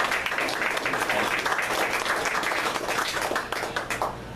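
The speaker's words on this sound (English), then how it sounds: "You should be applauding her." Applause from an audience at an evening performance at Mo Java café, a burst of clapping that runs throughout and thins slightly toward the end.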